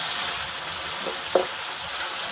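Cauliflower and potato curry frying in a pan, a steady close sizzle with faint scraping stirs near the middle.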